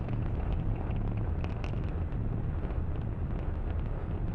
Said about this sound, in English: we are throttling down those engines in preparation for max Q, that is maximum dynamic pressure.